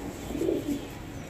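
Golden Rampuri pigeon gives a low, soft cooing call, a single short rolling coo up close, alone with no talk.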